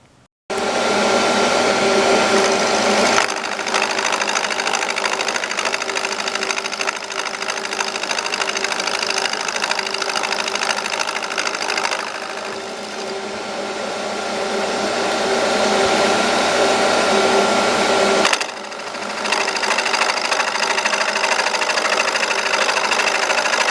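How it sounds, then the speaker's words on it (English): A metal lathe fitted with a homemade wood lathe driver runs with a loud, steady motor whine and mechanical hum, starting abruptly, dipping briefly midway, then continuing close and unbroken. "we can put it on the lathe and see if it works"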